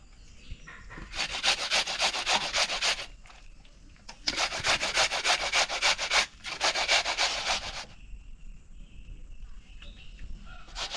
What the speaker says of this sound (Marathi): आता मी अशी सगळी काकडी अशी किसून घेते